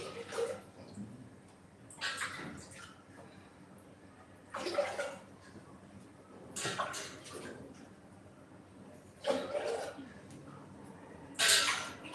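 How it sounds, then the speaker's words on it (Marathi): Several separate bursts of water being poured into a clay pot, each a few seconds long, with quiet gaps between them and faint room noise. "आणखी पाणी टाकूया आधापेक्षा जास्त आपण हे भरणार आहोत"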